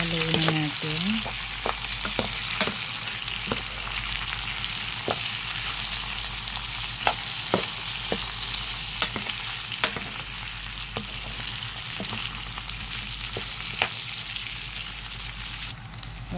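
Chili and other ingredients frying in a pan, a loud, dense, steady sizzle broken by regular sharp taps and scrapes of a stirring utensil, no voices.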